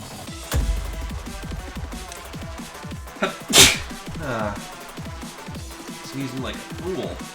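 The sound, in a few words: sneeze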